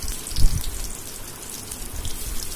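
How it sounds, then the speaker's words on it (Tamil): Raw plantain pieces sizzle in hot oil in a pan, a steady close crackling hiss with a brief louder burst near the start, no speech. "இப்போது ஆயில் நல்லா சூடானதுக்கப்புறமா நம்ம எடுத்து வச்ச வாழைக்காயை கொஞ்சம் கொஞ்சமாக இதில் நம்ம சேர்த்துக்கலாம்."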